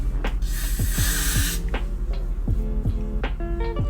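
A single long hiss of hair spray onto a wig's lace lasting about a second, followed by quieter rustling and faint handling sounds.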